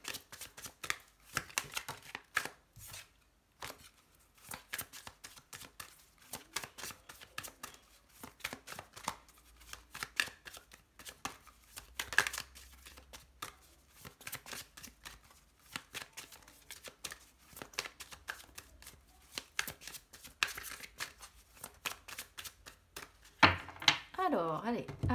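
A deck of oracle cards is shuffled and cut at a steady working pace, with repeated riffling and slapping close by and a voice talking over the handling throughout.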